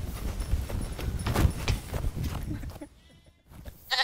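Sheep bleat and hooves clop in a staged nativity-story scene, the animal calls mixed with background noise before a brief near-silent gap and a sharp return of sound at the end.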